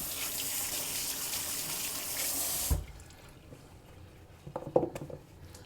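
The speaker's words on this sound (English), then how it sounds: "We'll wash the carrots." Organic carrots washed under a running kitchen tap, steady close splashing water that cuts off abruptly midway, followed by faint handling noises, no talk.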